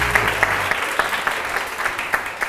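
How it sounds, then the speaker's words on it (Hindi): Studio audience applause on a TV morning show, a steady spattering of many hands with a few louder individual claps poking through, fairly close and filling the short stretch without speech. "बहुत सारी तालियां हमारी कैटरीना कैफ यानी रानिया।"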